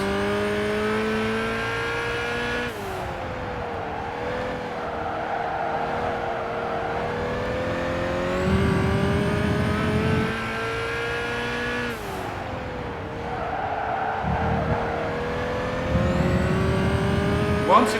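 Ferrari Enzo race car in Gran Turismo 5, its high-pitched engine wailing through rising gears with sharp shifts and brief downshifts, steady and loud, with occasional tire noise and no voices.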